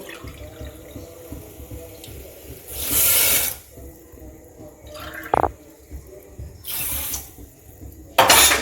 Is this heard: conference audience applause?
no